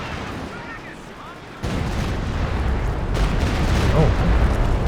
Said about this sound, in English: Walking Stuka coming through though.